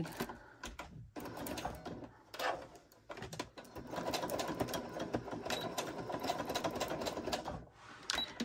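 A sewing machine stitching a waterproof baby bib made from shower curtain fabric, running in bursts with short pauses, rapid mechanical whirring that then settles into a longer continuous run.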